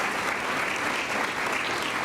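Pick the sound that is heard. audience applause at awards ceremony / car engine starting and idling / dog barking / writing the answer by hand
audience applause at awards ceremony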